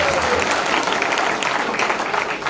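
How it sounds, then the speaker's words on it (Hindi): A Hindi comedy poetry show audience claps loudly and continuously, a dense, close wash of applause filling the whole moment. "आप ताली बजाइए"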